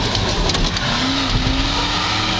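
A stuck truck revs its engine and spins its wheels, a steady loud roar with a rising whine partway through, continuous for a couple of seconds with no talking.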